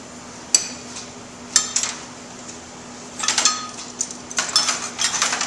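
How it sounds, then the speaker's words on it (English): A fork clinking against a small bowl while whisking mayonnaise ingredients, light metallic taps, sparse at first then quicker and more continuous, faint and close over a low steady hum. "Now I am using a fork to whisk just because the amount we're making is so small."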